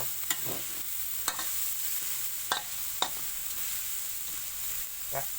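Chili is stir-fried in a pan for curry crab: a soft, continuous sizzle broken by sharp spatula scrapes and clacks at irregular intervals, about five strokes, close and clear.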